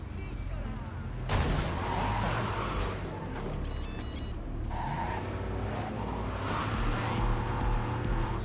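Car driven erratically in the video game Cyberpunk 2077, with a steady loud engine rumble and a sudden burst near the start, then swooshing passes and possible skids or crashes, with game sounds layered over the driving.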